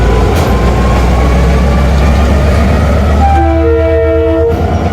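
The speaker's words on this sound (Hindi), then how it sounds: "beautiful sound, beautiful vintage sound, vintage locomotive का विंटेज साउंड है यार" Vintage locomotive hauling the 15 Up Karachi Express rumbles loudly and continuously nearby, then sounds a long, sustained multi-tone horn blast near the end, with the rolling rail noise underneath.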